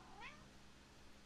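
A single short, rising meow from a house cat, close and quiet against a low background hum.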